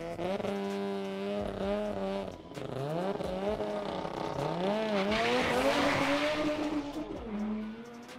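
Cars in a no-prep drag race roar down the lanes, engines revving up through rising gear pulls with tire squeal, loud and near, a second engine layering in before the run fades.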